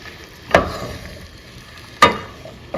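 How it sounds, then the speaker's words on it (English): Beans sizzle in hot oil with a low constant crackle, broken by two sharp scrapes of stirring and a third, fainter one near the end, all close and with no talking. "I added the beans in. And I'm going to stir them around a bit."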